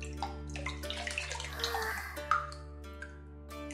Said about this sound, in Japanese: 桶に溜まった温かい湯で体を流し髪を洗う。